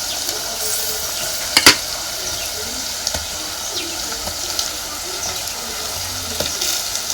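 Masala-stuffed bitter gourds sizzle steadily in a pan of roasted masala, with a few sharp clinks of the pan and spoon over the low, even frying hiss; no voices.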